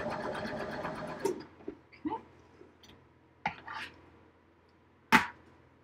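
A sewing machine doing free-motion stitching runs in a rapid rattling burst at the start, then falls to scattered clicks and short mechanical thumps, with one loud knock near the end.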